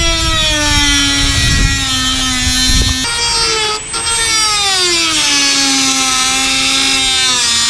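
A power tool shaving material off during a MaxxAir roof fan install on a Ford Transit van, a loud, close, steady high-pitched whine whose pitch sags and wavers as it bites in, running continuously with one brief dip, no talking.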